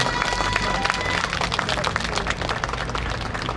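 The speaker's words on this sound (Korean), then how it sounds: "큰 박수 한 번 더 부탁드리겠습니다" An audience at a May 3 democratic uprising commemoration gives sustained, dense clapping after a pungmul folk drumming performance, steady and fairly close throughout.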